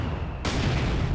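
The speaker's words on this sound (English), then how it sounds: "Got a decent barrage out the back." Artillery barrage in Company of Heroes 2, a sudden loud broadband boom after a quiet lead-in, followed by a sustained rumbling roar of shelling.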